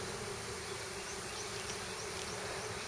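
A swarm of honeybees buzzing all around, a dense continuous drone of many wings at steady loudness, with no pauses and no other sounds.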